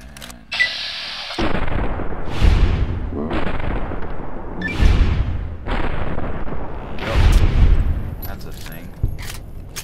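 Gunfire in Fallout New Vegas with mods: a series of heavy, booming shots roughly every two to three seconds, each ringing out with a long decaying tail, loud and close amid game background sound; speech is tagged but no words can be picked out.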